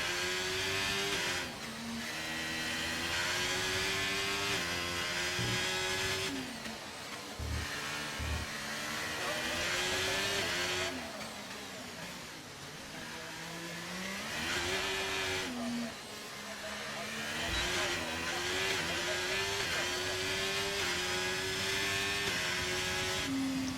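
A Ferrari Formula 1 car in a racing video game, heard on board around Monaco, its engine whining high and rising and falling through repeated upshifts and downshifts, with a commentator talking over it.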